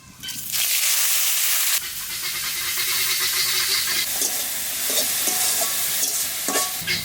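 Mustard greens hit hot oil tempered with nigella seeds and dried chili and burst into a loud, sustained sizzle, with a spatula scraping and stirring through the hiss.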